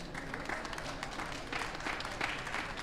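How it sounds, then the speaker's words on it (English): Audience applause at a conference session on cities and regions, a steady, even wash of many hands clapping, moderately distant and continuous throughout. "The applause is yours."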